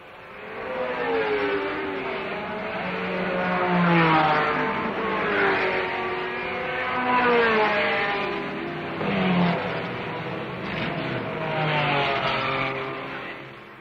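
Gulf Porsche 917 and Ferrari race cars at a 1970 race, engines rising and falling in pitch as several cars pass one after another, moderately loud and somewhat distant with no talk.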